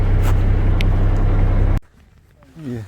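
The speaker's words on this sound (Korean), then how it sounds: "이제 출항을 하고 시동 걸었습니다" A fishing boat's engine runs with a loud, steady low rumble for nearly two seconds, then cuts off abruptly, leaving quieter ambience with a brief voice near the end.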